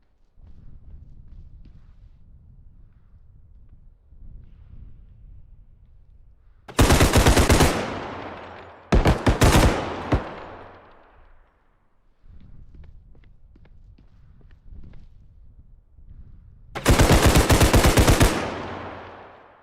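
Gunfire in the Escape from Tarkov video game, loud automatic bursts in three separate volleys, rapid and close, between quieter stretches of soft movement and footstep-like shuffling.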